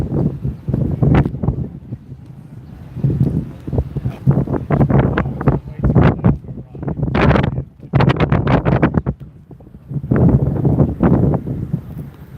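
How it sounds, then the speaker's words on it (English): Wind by the water in Hamilton, Bermuda buffets the microphone in gusty, uneven bursts, loud and close, with rushing broadband noise rising and falling throughout. "I'm right close to the water just now, and it's so windy over there."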